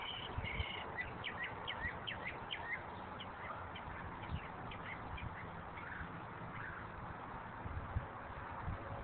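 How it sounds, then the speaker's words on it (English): A bird calls from a rooftop in a steady stream of rapid, nasal chirps and squawks, fairly close and continuous over a rough background hiss, with no talking. "a happy bird on your roof."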